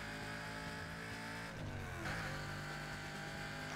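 An aggression-class race car in a racing video game, a continuous loud engine drone that dips and shifts pitch midway as if through a gear change or turn, with no speech.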